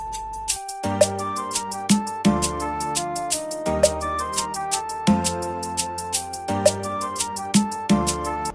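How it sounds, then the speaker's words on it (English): An upbeat afrobeat groove of conga hits and sharp woodblock clicks repeats steadily over a tuned bass and chord pattern. "Those are just like a conga and a block"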